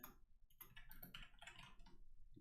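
Fingers tap a computer keyboard in quick irregular bursts of clicks, close and faint against a low room hum.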